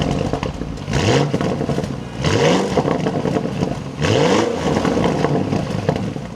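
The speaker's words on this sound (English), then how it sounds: "let's fire this up and take a listen to that V8." A 2026 Audi SQ8 V8 with 500 horsepower revs up in three loud, separate bursts, each with a rising pitch sweep, against a constant rumbling idle.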